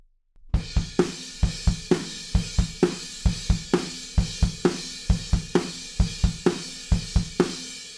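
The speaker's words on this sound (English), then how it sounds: "So that is a super standard punk beat that I bet you already know." Punk drum beat from the chorus of a song played on a kit: fast, steady kick and snare pulses under a constant cymbal wash, driving evenly and loudly with no talk.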